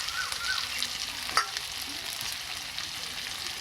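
Spices with dried chilli, black pepper and turmeric frying and being stirred in a pan for tilapia curry, a soft steady sizzle broken by a few clinks of the spoon.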